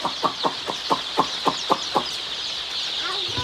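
A rapid series of about nine short, evenly spaced clucks from free-range village chickens sounds close by, followed by a brief pause and softer chicken sounds.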